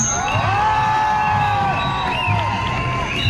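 A crowd at a Gilets jaunes street rally in Paris cheers and shouts continuously, loud and close, with whoops and children's voices rising over a steady roar of noise.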